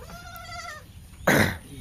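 A single loud bleat from a Kathiawari goat cuts in near the end, preceded by a faint wavering goat bleat in the background.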